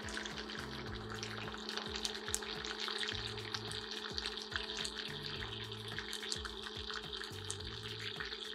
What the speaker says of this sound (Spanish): Agregamos una pizca de sal y los vamos a saltear aquí por unos minutos.